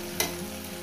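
Spice paste for a parshe fish curry sautéed in a pan on a gas stove over low flame, a brief steady sizzle with a single stirring scrape.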